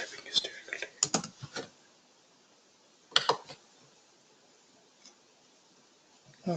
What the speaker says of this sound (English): Sorry, my typing is difficult.